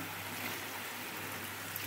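Mutton cooking water being poured into a cooking pot gives a faint, steady watery hiss that trickles on without a break for a couple of seconds.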